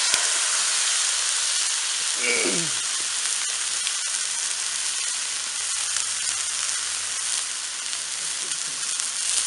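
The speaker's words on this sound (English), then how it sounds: "But I'm going to sear all the sides and just keep the juices in." A beef roast sears in a Dutch oven for a pot roast, giving a steady, loud sizzle and frying hiss that fills the whole span without talk.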